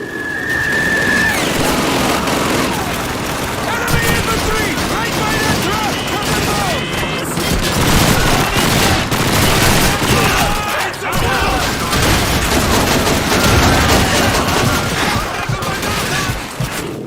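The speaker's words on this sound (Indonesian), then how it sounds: "langsung nembak loh dia" Gunfire from the World War II shooter Call of Duty 2 fills the scene with loud, dense bursts of rifle and machine-gun fire, crashes and booms, sounding almost without pause and mixed with game noise.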